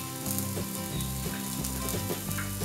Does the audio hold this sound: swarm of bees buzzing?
no